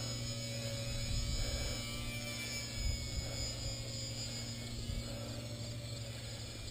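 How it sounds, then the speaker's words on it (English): The small electric motor of a Parkzone Micro Corsair RC plane in flight, a thin steady whine and drone with slight swells in pitch, heard from a moderate distance over outdoor background noise. "But it's a fun little plane."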